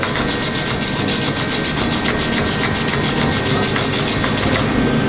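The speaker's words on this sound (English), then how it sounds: "get you a wire brush." Harsh, continuous scratchy scrubbing of a wire brush on a 6010 weld in quick back-and-forth strokes, loud and close, with no voices.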